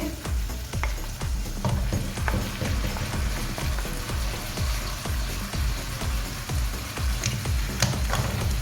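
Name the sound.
chicken and tomatoes frying for chicken karahi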